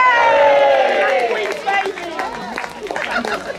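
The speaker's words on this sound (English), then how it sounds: "Can we have a big cheer for Miss Rickmansworth, please?" A crowd at an outdoor town fete cheers for Miss Rickmansworth, with high rising whoops and shouts of voices blending into a loud burst of cheering and scattered clapping.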